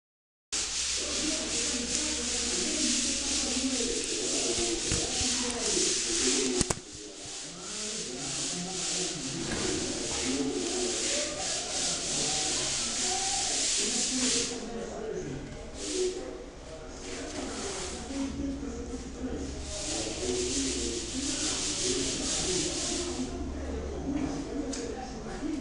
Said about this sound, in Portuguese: Dá uma lixada.